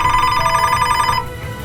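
An old-style telephone bell rings loud and close in a steady trilling burst for just over a second, then cuts off into a fading tail.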